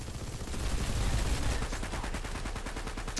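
Planetside 2 battle gunfire on PS4: rapid, sustained automatic fire rattles continuously in a loud, dense stream of evenly spaced shots, with heavy low rumble underneath.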